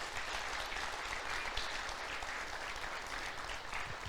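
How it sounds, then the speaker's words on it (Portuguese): Applause fills a church during a worship service: steady, dense clapping from a congregation, loud and sustained for about four seconds with no talking over it. "Aplauda o Senhor."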